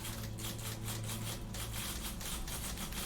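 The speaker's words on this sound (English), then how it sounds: "Oh, it's typewriters." Rapid typewriter clacking from the video game The Beginner's Guide, a steady dense stream of keystrokes over a low hum, heard alone without talk.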